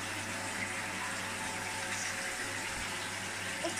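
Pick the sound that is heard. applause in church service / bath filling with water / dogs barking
bath filling with water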